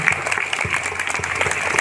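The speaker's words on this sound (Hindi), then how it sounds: "चलिए और एक बार हम सभी जोर से तालियों की गड़गड़ाहट से इन बहनों को बधाइयाँ दें" A church congregation applauds newly professed sisters at a final profession ceremony in an Odisha parish, with brisk, close, continuous clapping from a crowd.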